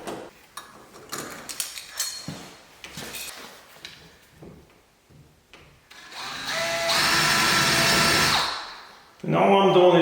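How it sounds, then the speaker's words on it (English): A small drill bit whirs into metal pocket door lock hardware to countersink the screw holes, a steady high-pitched run of a few seconds after scattered handling clicks, ending with a louder burst. "I'm going to take a small drill bit and I'm going to drill that out just a wee little bit"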